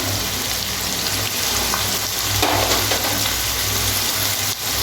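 Ground spices, including coriander powder and turmeric, frying with soybean in a pan for a vegetarian Bengali dish: a steady, close, hissing sizzle with no talk.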